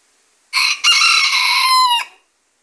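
A single loud rooster crow rings out close by in a backyard, a long harmonic cock-a-doodle-doo lasting over a second, with silence before and after.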